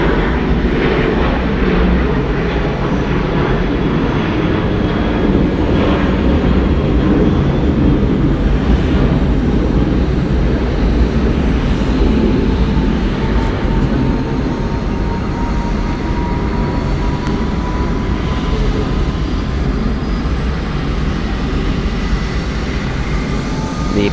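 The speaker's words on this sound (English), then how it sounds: "The plane is starting up." An airliner at Atlanta Hartsfield-Jackson International Airport starts up with its APU running, a steady, loud droning hum and roar that holds even and unbroken throughout.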